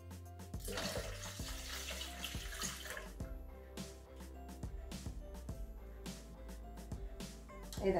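Water is poured into a Thermomix (Bimby) bowl already holding milk for American-style coffee, a close, steady splashing stream lasting roughly three seconds, with background music continuing throughout.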